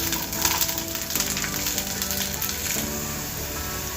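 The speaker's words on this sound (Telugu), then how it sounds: "ఇప్పుడు కప్పు బఠానీ వేసుకోవాలండి. వేసుకొని మీడియం ఫ్లేమ్ మీద వేయించుకోవాలి." Green peas frying in oil in a pan over a medium flame, a steady close crackling sizzle with light scraping stirs, no voices.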